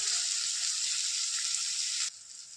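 Onions and green chilies fry in a pan with a steady, bright sizzle close by, the sound dropping off sharply near the end.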